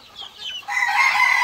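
Young chicks and fowl cluck and peep in a dense, continuous chorus at a poultry pen of crossbred chickens, close and steady, growing fuller after the first moment.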